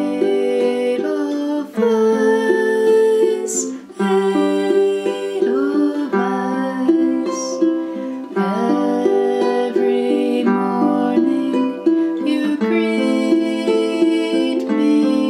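Ukulele fingerpicking the melody of Edelweiss in a steady three-beat pattern, each plucked note ringing clearly up close with no talking over it.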